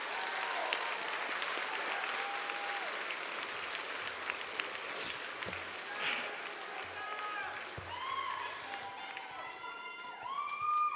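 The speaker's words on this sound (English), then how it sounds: "we are going to give you a big round of applause" A crowd claps steadily throughout, a dense wash of applause with scattered voices and cheers rising near the end, at a high school graduation ceremony.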